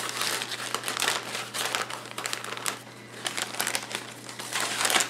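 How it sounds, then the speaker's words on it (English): Heavy butcher paper crinkles and rustles steadily as pork chops from a freshly cut hog are wrapped by hand, close up, with continuous crisp crumpling and no talk. "I wrap my chops."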